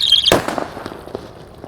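A Happy Power 3 firecracker lit in water: a faint fuse hiss, then one sharp loud bang followed by scattered crackles and pops that fade over the next second.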